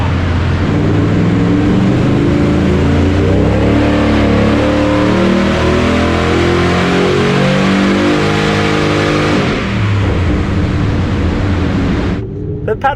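A car with a 10-speed automatic revs hard on a dyno run, its engine note climbing through rising gear harmonics for about nine seconds before dropping off, loud and close.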